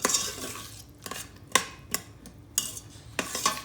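Chopped onions softening in a pan are stirred with a utensil, giving a series of sharp scrapes and metallic clinks at an irregular pace over a faint, steady background hiss, with no voices.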